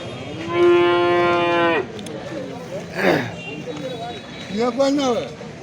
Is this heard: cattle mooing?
yes